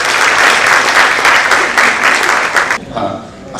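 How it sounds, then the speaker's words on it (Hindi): Loud, dense audience applause at a poetry book launch fills the space steadily, then drops away sharply near the end, leaving faint room noise and a few scattered claps. "मैं एक बार चाहती हूँ 2 जोरदार तालियां आप सभी सभी श्रोताओं के लिए।"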